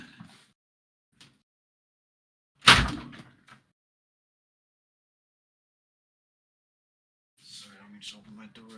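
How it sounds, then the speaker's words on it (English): A door opens with a single sharp knock and thump, close and fairly loud, in an otherwise quiet room, and soft talk follows a few seconds later. "let me just open my door."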